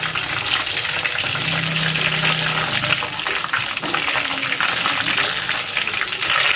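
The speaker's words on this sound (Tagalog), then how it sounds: "nilipat ko sa mas maliit na kaserola para mas lubog sa mantika yung ating cordon bleu" Chicken cordon bleu deep frying in oil in a small saucepan, a loud, steady sizzling and bubbling that fills the whole stretch, close and continuous.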